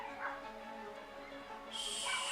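A household crowded with seven dogs lets out faint, thin whimpers and a few soft yips, quiet and somewhat distant, with no talking over them.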